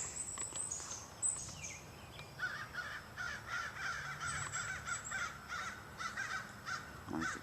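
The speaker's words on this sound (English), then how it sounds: "I think the crows know I'm here now." Crows caw repeatedly in pine woods, several harsh calls overlapping at moderate distance over a faint bed of insect and cricket buzz.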